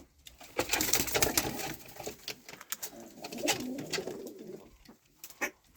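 Pigeons coo repeatedly in a loft, soft throaty calls rising and falling close by with brief pauses, no talk over them.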